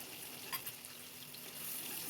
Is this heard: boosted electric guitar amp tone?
no